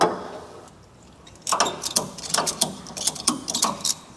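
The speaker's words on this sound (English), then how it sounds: "I'm going to hook a ratchet strap from the hood up to the core support so it can't slide back" A ratchet strap running from the hood of a 1970 Chevelle to the core support is cranked tight, giving a series of sharp, close clicking ratchet bursts in an uneven rhythm after a brief quiet start.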